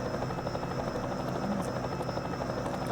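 A helicopter in a beach drag-racing video game drones steadily with a continuous rotor buzz, moderately loud and alone for the whole span.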